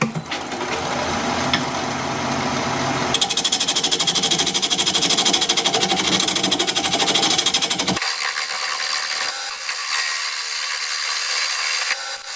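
A wood lathe spins a log while a chisel squares up the end, giving a harsh, continuous scraping and rumbling that shifts in pitch midway, then thins to a lighter cutting hiss.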